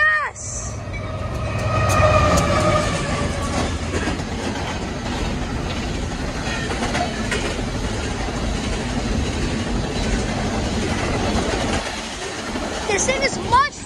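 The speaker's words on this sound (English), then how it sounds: "This thing is much faster than the freight train that just passed." A fast Union Pacific AC44CW locomotive rushes past with a loud, sustained roar and rail clatter that builds and holds, with voices briefly audible near the start and end.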